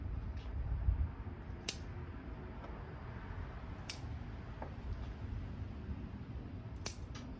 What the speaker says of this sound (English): trimming back trees to the 1st or 2nd leaf set